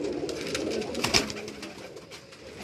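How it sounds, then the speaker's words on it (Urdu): Ferozpuri pigeons calling and cooing on a Karachi rooftop amid a steady outdoor hum, with a brief louder flutter near the middle. "فیروز پوری کبوتر آئے جا رہے ہیں"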